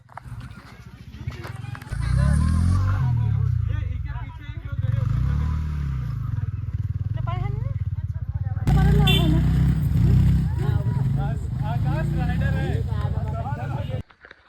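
A motorcycle rides along a good road, its engine drone steady and close beneath wind noise. People talk over it throughout.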